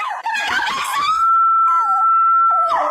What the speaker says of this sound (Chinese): 幸好此时狗狗叫了一声